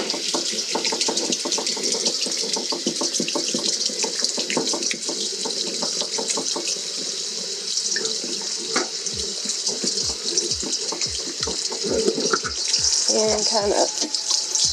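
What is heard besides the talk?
water running from a tap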